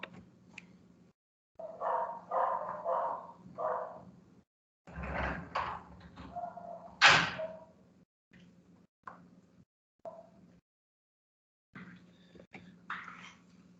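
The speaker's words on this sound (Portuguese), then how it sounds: "os cachorrinhos do vizinho começaram a latir na minha janela." A neighbour's dogs bark at a window in short, irregular bursts that come and go between quiet gaps, fairly close and moderately loud, with a few faint knocks in between.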